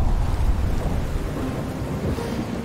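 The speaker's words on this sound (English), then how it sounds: "They are thunderstorms coming." Louisiana summer thunderstorm with deep rolling thunder and steady heavy rain, a dense continuous roar filling the whole stretch with no voices.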